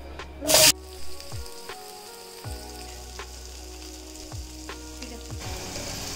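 Fenugreek seeds and dry chillies fry in hot oil for a sesame chutney, a close, steady sizzle with soft crackles and a brief louder burst near the start, no talking.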